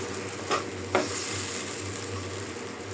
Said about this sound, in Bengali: এবার দিয়ে দিই রুই মাছ